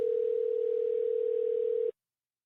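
A steady electronic phone tone rings out continuously for about two seconds, loud and clean, then cuts off abruptly into silence.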